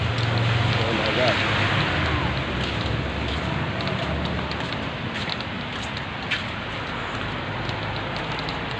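Steady rain falls in Qatar as a continuous broadband wash with scattered drop ticks, fairly loud and close, with a low background rumble underneath.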